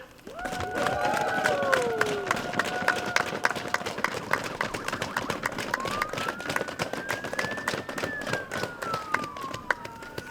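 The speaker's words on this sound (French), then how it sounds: "J'aimerais que tout le monde ici réuni, on applaudisse toute l'équipe du campus nordique." An assembled crowd applauds the Campus nordique team at a public announcement, with sustained dense clapping, cheering and whistles that carry on at a lively level for several seconds.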